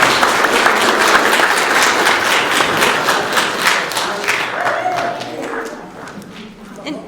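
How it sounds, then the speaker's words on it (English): A church congregation at a Sunday service breaks into loud, dense clapping that fills the room, holding steady before gradually thinning and fading toward the end. "Now we can clap."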